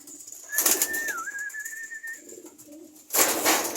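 A thin dark-checkered pigeon gives a drawn-out, wavering coo close by, framed by loud bursts of flapping wings before and after.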